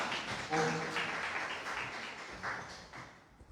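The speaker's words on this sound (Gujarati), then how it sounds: "આપણે તાળીઓના ગગડાટથી વધાવી દઈએ" An audience at a Gujarati literary festival session applauds someone speaker, a soft, dense wash of clapping that swells and then slowly fades, heard from some distance.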